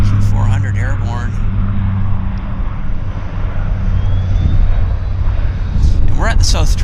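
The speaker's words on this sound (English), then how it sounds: "Q400 airborne." A Bombardier Q400 turboprop takes off at Vancouver airport near the South Terminal, its loud steady engine drone and propeller roar filling the scene while someone talks over it.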